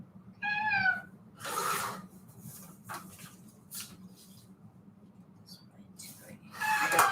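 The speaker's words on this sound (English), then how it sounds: "Sorry about my cat." A pet cat named Bobo meows indoors, making a few short, faint mews spread across the moment, with quiet paper-cutting rustles and a low background hum between them.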